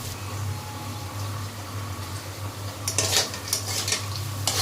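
Diced potatoes fry in a pan as a utensil stirs and scrapes them, sharp metallic clinks and scraping strokes over a steady low hum and soft sizzle, close and fairly loud.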